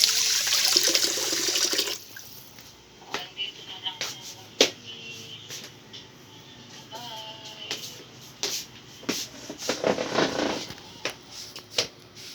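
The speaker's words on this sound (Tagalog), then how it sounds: "Maghugas po tayo sa kamay" Water from a household tap runs and splashes during handwashing, a steady close wash with intermittent clinks and small knocks over it, a louder hiss of flow at the start.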